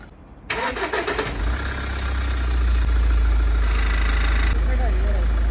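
A Mahindra Scorpio S11 engine cranks and catches, then settles into a steady, close idle that hums on to the end, with people's voices around it.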